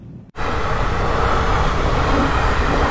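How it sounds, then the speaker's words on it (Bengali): A train rumbles steadily across a level crossing on the road from Kolkata toward Jalpaiguri, a loud continuous roar that bursts in after a brief quiet moment and holds at full strength to the end. "ট্রেনটা এসছে তাহলে।"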